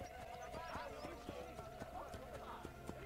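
Horse hooves clip-clop in Assassin's Creed Brotherhood, a quiet, steady run of hoof beats on hard ground with a faint whinny, heard softly and at a distance.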